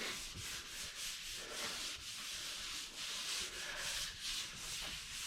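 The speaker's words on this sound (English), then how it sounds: "Some people call this wet sanding." Wet sanding of drywall compound during kitchen remodeling, a steady rhythmic rubbing and scrubbing that repeats in strokes of about half a second, close up and alone.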